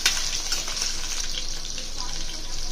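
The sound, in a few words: drumstick pieces frying in oil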